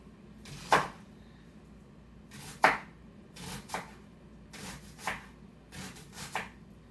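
A knife slicing through a yellow onion on a cutting board for a jar of fermenting radishes, six crisp chopping strokes spaced about a second apart, close and clear with no talking.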